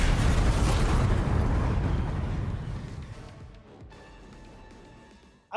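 A loud explosion from Call of Duty 4: Modern Warfare, a heavy broad blast that rumbles and slowly decays over several seconds, ending with a short sharp burst.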